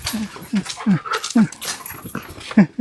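A neighbour's pet dog whimpers and gives short, high yips in quick bursts close by, while people talk over and between its cries.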